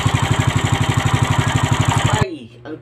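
A farm machine's engine runs with a rapid, steady chugging pulse, loud and close, then cuts off abruptly near the end, leaving a quieter tail.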